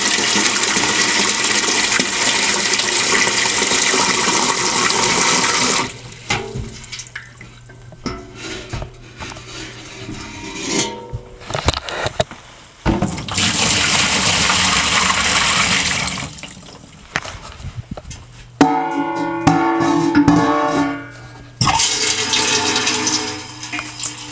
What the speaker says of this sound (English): I will spare you guys the over and over dumping some water into this bin